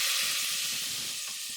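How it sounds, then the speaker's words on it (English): Spicy tomatoes and rice frying in a pan, a steady bright sizzling hiss, close and continuous with no talking. "That's one of my favorite sounds to hear, just to hear that sizzle."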